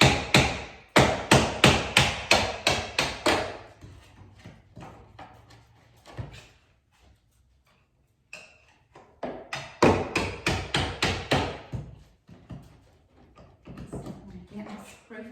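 A hinge pin is hammered back into an old door hinge during house trim restoration: two rapid runs of sharp metal-on-metal strikes, about eight blows each, close and loud, with a quiet pause between them.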